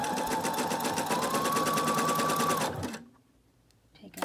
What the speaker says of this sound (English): Do a fixed stitch or do a back stitch and just sew all the way around